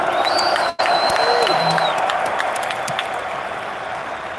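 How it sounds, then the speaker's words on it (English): A large conference crowd on a main stage claps and cheers loudly in a sustained wash of applause, with whistles and shouts rising over the din, and a brief cut early on. "Clap it up for the fellas."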